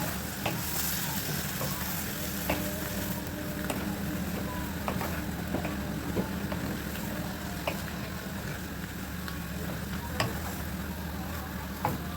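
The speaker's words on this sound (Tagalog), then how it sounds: "isunod natin ilagay yung pine nuts" Steady sizzling in a pan as pine nuts are added to tomato sauce for beef meatball kafta, with faint scattered taps and stirring sounds over a constant frying hiss.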